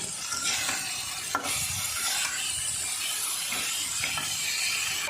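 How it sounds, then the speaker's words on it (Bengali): Goat tripe masala with turmeric being stirred in a pan, a continuous soft sizzle broken by several spoon scrapes and knocks against the pan, close and alone. "এই যে দেখেন, আমি সুন্দরভাবে নেড়েচেড়ে মাখিয়ে নিচ্ছি।"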